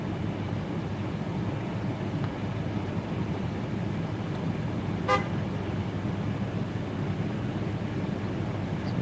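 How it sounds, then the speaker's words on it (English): Steady road noise fills a moving car in traffic, and one short, sharp car horn honk sounds about halfway through. "Who's honking their horn?"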